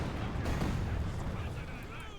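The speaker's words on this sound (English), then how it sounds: "Pictures of rocket launcher firing away there at Kobal." Rocket launcher volleys in Company of Heroes 2 battle, a dense rumbling roll of launches and explosions running steadily through the clip at moderate loudness, with a commentator talking over it.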